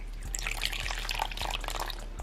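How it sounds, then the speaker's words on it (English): Water poured over moss inside a tarantula enclosure makes a steady, close trickle and splash that runs without pause, with no voices over it. "I'm actually gonna pour a little bit over here just so that the moss gets a little bit moist"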